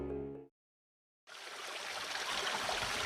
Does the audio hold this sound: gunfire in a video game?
no